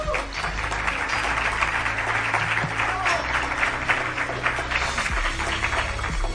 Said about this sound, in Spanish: saludéis en cierto modo con un pequeño aplauso